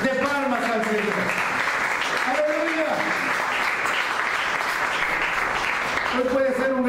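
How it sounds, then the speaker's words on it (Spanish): A church congregation gives a loud, sustained round of clapping that fills the whole stretch, with a voice speaking or singing over it. "Den otra ofrenda fuerte de palmas al Señor."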